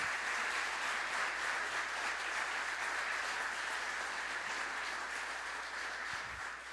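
A church congregation claps for Jesus during a sermon on tithes and offerings, steady dense applause filling the room for several seconds without any voices, easing slightly toward the end.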